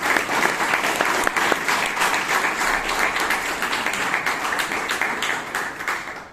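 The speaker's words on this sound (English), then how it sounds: "So a round of applause once again to all the contestants." A live audience at a Bangalore Toastmasters speech contest meeting applauds the contestants with dense, steady clapping that fills the room evenly from start to finish.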